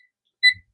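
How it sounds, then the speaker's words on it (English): A kitchen timer is set while soup is being cooked, giving one short, bright electronic beep followed by a soft click, alone in an otherwise quiet moment. "I'm going to set the timer."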